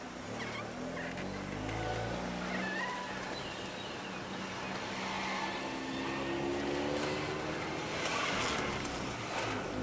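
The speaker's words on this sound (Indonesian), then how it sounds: "kucing gemuk lintas jalan" A fat cat crosses a road, with meowing cries carrying over a steady, busy background of traffic and outdoor noise, the calls fairly close and intermittent across the stretch.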